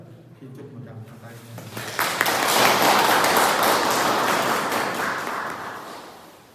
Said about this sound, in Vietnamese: Xin chúc một tràng pháo tay.